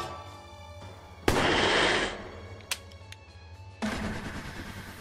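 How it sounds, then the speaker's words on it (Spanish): Gunfire in the video game Achtung! Cthulhu Tactics lands as a sudden loud blast with a sustained hissing, smoky burst, followed by a sharp crack and then another rushing burst. "disparo humeante sobre este"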